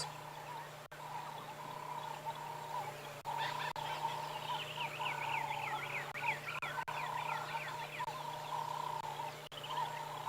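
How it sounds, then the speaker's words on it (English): Chorus of wild birds calling at sunrise on an African safari, repeated warbling and trilling phrases layered over a steady background hum, moderately near and continuous throughout. "all you can really hear predominantly are bird calls"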